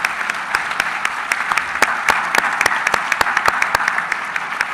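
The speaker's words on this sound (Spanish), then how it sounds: "Un fuerte aplauso, por favor, para los expositores." Audience applause for the presenters at the close of a plenary session at an open economic-outlook event, steady dense clapping with sharp individual claps standing out, sustained for several seconds with no voices.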